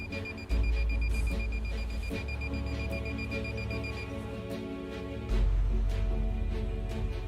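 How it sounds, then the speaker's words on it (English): Repeated electronic beeps from an underground water detector pulse at a steady, intermittent rhythm over a low, constant hum, fairly close and clear. "making an intermittent beep"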